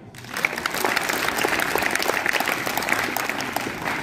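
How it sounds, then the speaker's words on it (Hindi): An audience at a motivational talk on the Mission Shakti program bursts into loud, sustained applause, a dense clatter of many hands clapping together that starts abruptly and holds steady throughout. "अपने लिए ताली बजाओ।"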